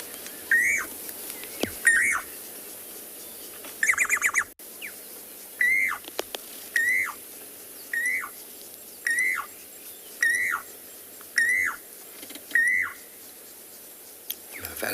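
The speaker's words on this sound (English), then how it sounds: "If you didn't hear the Llewellyn's cuckoo, I'll play it for you." Recorded call of a Llewellyn's cuckoo, a repeated whistled note given about once a second in a steady series, clear and close, with a few clicks and handling noises early on and no speech.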